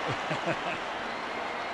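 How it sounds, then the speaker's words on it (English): Dense roar of a record crowd cheering in a basketball arena during a FIBA Americas game between Mexico and Argentina, continuous and loud throughout the short stretch, with a voice briefly audible beneath it. "Look at this crowd, record crowd for a FIBA Americas tournament, ever."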